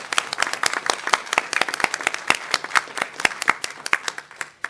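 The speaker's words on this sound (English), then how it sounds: "Can we give them all a round of applause?" Audience members at a State Board of Education meeting clap for honored educators, a fairly small crowd producing distinct, rapid claps close by.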